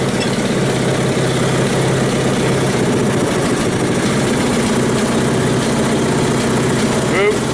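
A Westwood T1200 garden tractor engine runs steadily, brought out of winter storage, with a loud, low, continuous rumble and faint mechanical rattle, close by throughout.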